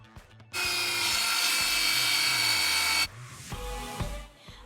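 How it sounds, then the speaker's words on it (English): A cordless circular saw guided by a Kreg Rip-Cut rips through hardwood plywood in one loud, steady whine lasting a few seconds, then spins down amid quieter handling noises. "I use a Craig Rip Cut tool and my cordless circular saw to cut a nice straight line."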